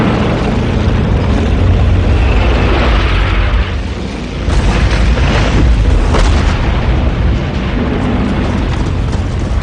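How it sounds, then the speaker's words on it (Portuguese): Katyusha rocket launchers, the "Stalin's organs," firing in a WWII bombardment: dense, continuous roaring blasts and booms with rushing, crackling bursts, loud and sustained, with no talk. "bombardeando-as com lançadores de foguetes que eles chamam de órgãos de Stalin"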